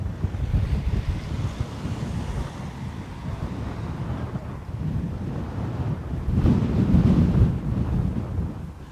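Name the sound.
wind blowing at Dublin Airport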